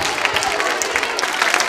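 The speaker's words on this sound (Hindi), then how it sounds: "तालियां जोरों से बजाइए इनके लिए" Audience applause at a Holi-themed quiz show in a girls' B.Ed college, a dense, steady patter of many hands clapping close by with faint crowd murmur underneath, sustained throughout.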